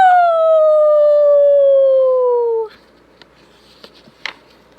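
A person imitates a wolf with one long, loud, slowly falling howl lasting a few seconds, followed by near silence and a few faint small noises.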